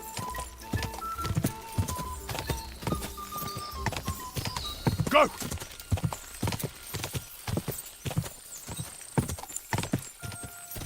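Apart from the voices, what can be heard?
horse galloping hooves in Kingdom Come: Deliverance II video game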